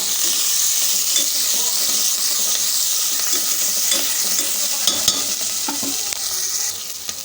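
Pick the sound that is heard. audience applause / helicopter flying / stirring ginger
stirring ginger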